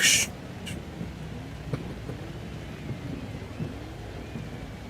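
Steady hiss of heavy rain with a low rumbling engine drone underneath in the racing video game Forza Horizon 5, a brief loud burst at the start, and faint thumps scattered throughout.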